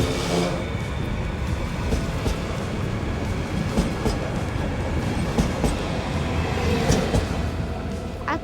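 Steady rumble of a train departing Żywiec station in Poland, with rolling wheel noise and faint clicks, continuous and fairly close, no voices.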